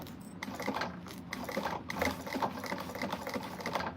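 A sewing machine stitches fabric pieces a little at a time, short bursts of quick mechanical clatter with brief pauses between them, close and moderately quiet.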